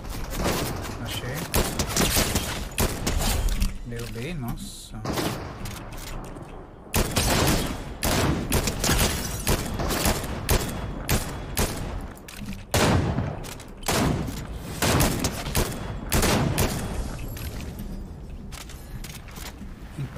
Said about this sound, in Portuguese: Ó, tiros.